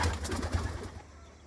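Pigeons in their new coop give a few low, throaty coos close by, repeating in a soft rolling rhythm for about a second before fading out.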